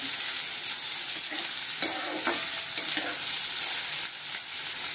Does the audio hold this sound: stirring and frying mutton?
yes